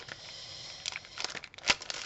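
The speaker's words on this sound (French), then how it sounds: "Donc, on a du papier comme ceci." Paper sheets being handled, giving a few scattered crinkling and rustling bursts close by, with one sharper crackle near the end and quiet stretches between.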